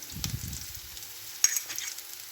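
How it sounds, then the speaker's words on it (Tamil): Onions sautéing in a pan for beetroot rice give a soft, steady sizzle close by, with a few brief scraping stirs near the start and no talking. "வெங்காயம் வந்து நல்லா பொன்னுறத்துக்கு வர மாதிரி வதக்கி எடுத்துக்கொள்வோம்"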